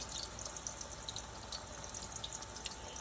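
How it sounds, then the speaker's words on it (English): Eggplant parmesan cooking on very low heat, a faint, even crackling sizzle with tiny pops, soft and continuous with no voices. "I'm letting it cook a little bit at a very low heat"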